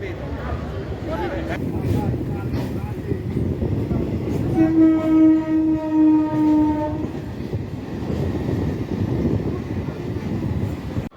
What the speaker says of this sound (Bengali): ঢুকছে ট্রেন নাম্বার 303/22 হাসনাবাদ থেকে বিবাদীবাগ কলকাতা যাওয়ার গাড়ি।